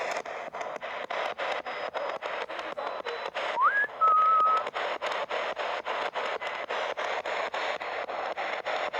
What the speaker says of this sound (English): Is it possible you could whistle through this device?